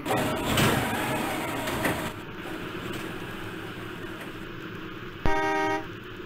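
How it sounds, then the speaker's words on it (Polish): Car horns sound in the Trainz: A New Era rail simulator, on a Wrocław street while riding tram line 7 along Orla Street. Steady traffic noise runs throughout, and one loud, brief horn blast cuts in near the end. "Tych klaksonów nie da się wyłączyć."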